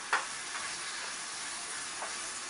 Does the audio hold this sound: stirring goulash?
yes